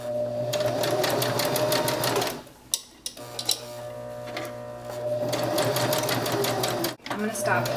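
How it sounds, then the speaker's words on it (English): A home sewing machine runs in fast rhythmic bursts as it stitches down the side of a zippered fabric pouch, stopping and restarting with brief clicks and handling noise between runs; someone talks over it. "Okay, so you're going to sew all the way down."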